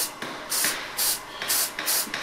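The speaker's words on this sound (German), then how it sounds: "Jetzt werden die Äste mit Sprühkleber eingesprüht und zwar von unten" Spray adhesive in a fine, targeted jet sprayed from below onto model spruce branches: about four short, sharp hissing bursts in quick succession, close and loud.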